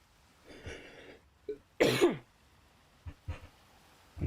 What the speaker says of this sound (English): I still got my cough.